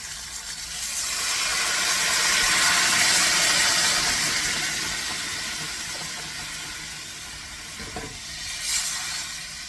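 A quart of vegetable stock poured into a pot for beef neck in gravy makes a steady splashing hiss that swells, holds and slowly fades, with no talk over it.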